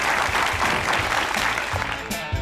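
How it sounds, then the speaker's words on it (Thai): A crowd claps steadily, dense and sustained applause filling the space for a couple of seconds. "ขอเสียงปรบมือให้กลุ่มเพื่อนสี่หนึ่งครับ"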